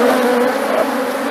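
Honey bees swarm and buzz loudly and steadily around an opened hive with brood frames during a colony split, a dense continuous hum with no talk.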